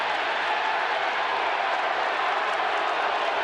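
A baseball stadium crowd reacts during a Rangers versus Blue Jays game with a steady, distant roar and scattered applause that stays at an even level throughout.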